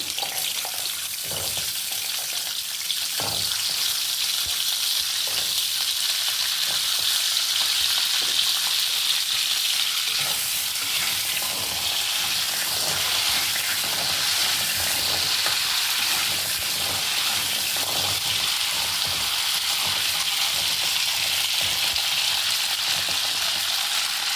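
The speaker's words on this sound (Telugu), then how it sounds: "నేను ఉసిరికాయలు ఇలా వేయించుకుంటానండి వేయించుకుంటే కొంచెం మొక్క మెత్తపడుతుంది" Amla gooseberries frying in a little oil in a pan, with a continuous bright sizzle and occasional stirring scrapes and knocks, close and steady throughout.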